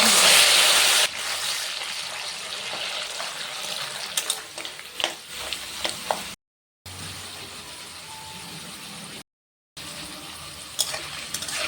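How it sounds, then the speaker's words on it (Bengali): Grated taro (kochu) squeezed with turmeric sizzles in a hot pan, a fairly loud, close, hissing fry with a handful of scraping knocks, broken by two short silent gaps. "গ্যাসটা কমিয়ে কমিয়ে ভাজতে হয়।"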